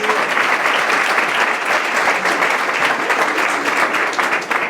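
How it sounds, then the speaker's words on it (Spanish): Loud, sustained clapping from a church congregation praising God, many hands striking together in a thick, even roar that holds for several seconds. "Chillamos fuerte palmas para Dios."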